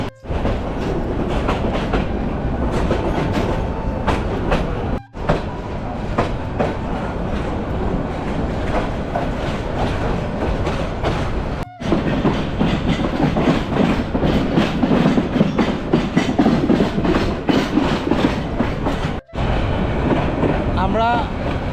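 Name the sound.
Egarosindhu local train running from Airport to Kamalapur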